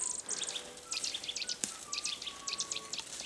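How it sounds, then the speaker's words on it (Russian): Birds chirp and trill in a forest in spring, quick repeated high notes over a faint insect-like hiss, quiet and somewhat distant. "О, птицы поют."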